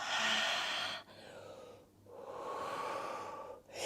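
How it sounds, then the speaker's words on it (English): Slow, deep yoga breaths during a child's pose flow, long airy inhales and exhales close to the mic, quiet and steady with brief pauses between breaths, no talking. "Breathing deeply."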